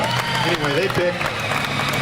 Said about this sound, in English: how about a big round of applause for the seminars